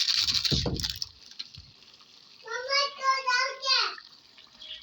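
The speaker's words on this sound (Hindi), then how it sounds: "थोड़ा सा पानी डाल देता हूँ इसके अंदर" Water pours into a clay cooking pot with a brief, close splash and gurgle, followed by quiet and then a voice.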